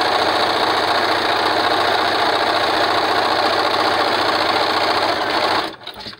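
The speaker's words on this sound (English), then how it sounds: "and then I just continue sewing" Sewing machine chain sewing medical mask covers one after another, a loud, close, continuous rapid mechanical whir that runs steadily and then stops abruptly near the end.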